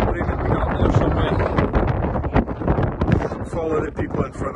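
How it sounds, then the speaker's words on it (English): Strong wind on the mountain Meall nan Tarmachan buffets the microphone in loud, uneven gusts, rumbling and roaring up close, with faint voices mixed in. "Extremely windy today."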